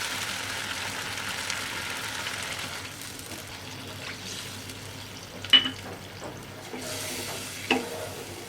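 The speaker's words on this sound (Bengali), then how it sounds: "এখন আমি জল দিয়ে দেবো।" Water poured into a pan of sizzling fried spice paste for a mustard pabda fish curry, a steady frying hiss that softens into a bubbling simmer, with a couple of sharp clinks of a utensil.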